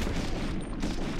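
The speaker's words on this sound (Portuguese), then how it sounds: "Nossa, bazuca!" A bazooka fires in a video game as a short, dense, booming blast that fills the whole brief moment with low rumble.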